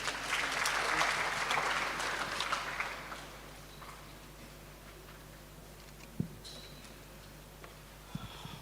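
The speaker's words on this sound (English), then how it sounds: "A round of applause" Audience at a university freshers' orientation gives a round of applause that is loudest at the start, then fades after about three seconds into quiet room noise with a few faint knocks.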